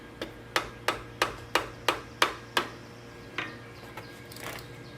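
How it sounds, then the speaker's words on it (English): A rubber mallet with a wood handle hammers on a bare engine block during teardown, seven sharp, evenly spaced thuds with short ringing decays, then a few softer taps over a low steady hum. "Using this stuff, rubber mallet, wood handle, no metal."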